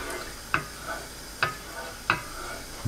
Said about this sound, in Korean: 센 불로 저어가면서 끓입니다